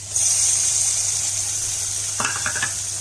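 Chicken liver added to onions frying in a pan, a steady close sizzle with a brief burst of stirring and scraping near the end.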